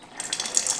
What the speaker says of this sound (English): I'm just gonna use my mason jar real quick to test this out.